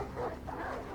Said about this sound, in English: Got the attack dogs.